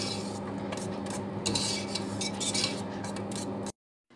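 Continuous scraping and clinking of a utensil stirring thick Turkish delight in a pot on low heat, a steady rasping texture with occasional sharper scrapes, then it stops abruptly.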